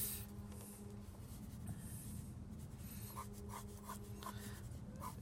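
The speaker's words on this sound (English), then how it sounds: "I need to turn my paper, and so I'm going to start sketching this out." Pencil sketching on paper for a pop art drink can drawing, a continuous soft scratchy rubbing with a few quicker strokes near the end, quiet and close with no voices.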